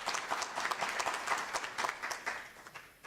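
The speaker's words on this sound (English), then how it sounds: "Let's give him a round of applause." A small audience at a research and innovation week event claps for a speaker, a moderate, fairly close patter of hands that pulses unevenly and tapers off toward the end.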